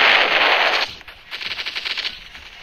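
Rapid sniper-style gunfire in a shooter video game about cheaters, a dense loud burst of shots at first, then a brief pause and a second run of quick repeated shots, with no talk.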